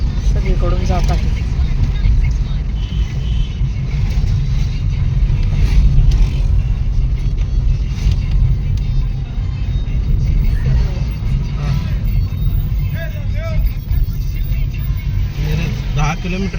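Sugarcane trucks rumble past on a road near Sangli and Miraj. Their loud, steady engine noise swells and fades slightly as vehicles go by, with voices mixed in.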